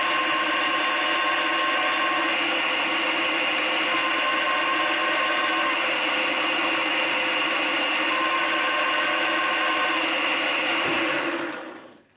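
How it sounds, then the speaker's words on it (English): A small 3 mm carbide end mill tries to drill into a metal 120-tooth gear but fails to bite, with a steady, loud, high-pitched whine from the power tool. It holds constant with no talking, then cuts off at the end. "I will try to drill it out with this 3mm carbide little end mill."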